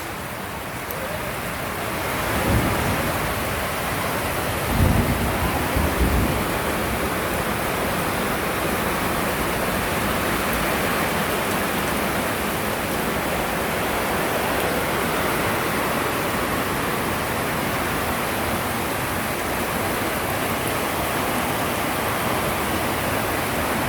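Loud, constant roar of heavy rain and fast-flowing floodwater pouring into a drainage channel by a flooded river in Montalban, Rizal, dense and unbroken, with a few faint thumps early on and no speech.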